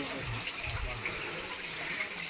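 Water flowing out from between large rocks beside a hillside temple, a continuous rushing splash heard close and fairly loud throughout.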